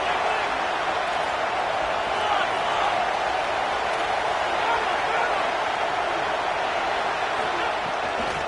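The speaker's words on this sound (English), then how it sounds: "Man, this crowd really affecting the football game." Roaring home crowd noise in a college football video game, a dense steady wash of cheering that stays loud and unbroken throughout with no clear individual voices.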